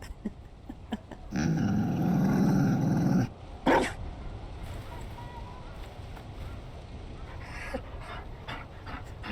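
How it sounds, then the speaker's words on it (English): A Mabari dog in Dragon Age: Inquisition pants and growls in a loud two-second burst, followed by a quieter stretch of game ambience with a few faint sounds. "Oh my god, he has a dog."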